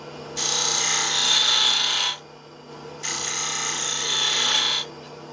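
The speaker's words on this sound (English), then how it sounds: "So I'm going to use this quarter inch scraper" A quarter inch scraper cuts wood on a lathe in two sustained hissing, rasping passes of about two seconds each, close and fairly loud, over a steady motor hum.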